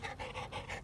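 A tired dog panting in quick, steady breaths, close but soft, a continuous rhythmic huffing with no voices.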